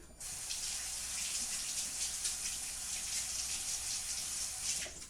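A kitchen tap runs steadily as hands are washed under it while making Irish soda bread, a soft continuous hiss and splash with no talking.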